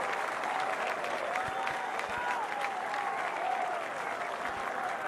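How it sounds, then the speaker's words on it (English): Golf spectators at the final round of the 2017 PGA Championship clap in a steady outdoor wave of applause, moderately loud and continuous, with faint voices and scattered sounds mixed in. "a great round of applause"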